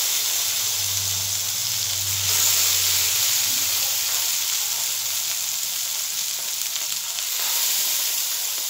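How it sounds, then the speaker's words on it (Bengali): Gourd leaf and sesame fritters frying in hot oil, a loud continuous sizzle and hiss close by, with a low bubbling undertone early on. "তেলটা গরম হয়ে গেছে, আমি এগুলো একটা একটা করে দিয়ে দিচ্ছি।"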